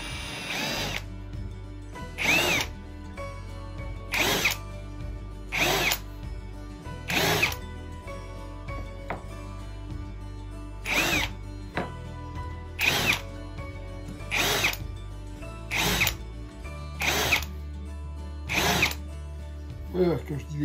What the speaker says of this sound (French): Juste faire un petit coup de fraisage pour que les bords soient propres.